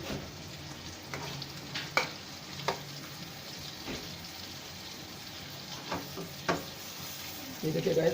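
Potatoes and eggs frying in ghee in a pan, a continuous soft sizzle with scattered stirring scrapes and light utensil taps, close by, ending in a brief louder burst of spatter.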